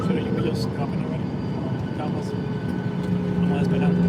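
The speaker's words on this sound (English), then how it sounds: "This plane is about to take off." An airplane waiting to take off, heard as a steady, loud cabin hum with engine drone that holds through the whole stretch.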